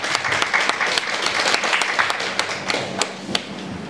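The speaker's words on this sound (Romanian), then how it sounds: "vă rog să dăm un rând de aplauze tuturor" Audience members at a talk on a handmade business applaud together, a lively patter of many hands clapping nearby with a few sharp, prominent claps cutting through, steady for the whole stretch.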